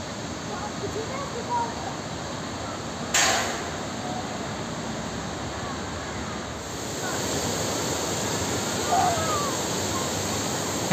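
Fountain at Mustaqillik Square in Tashkent, a steady rushing splash of falling water heard up close and continuously, with people talking nearby now and then.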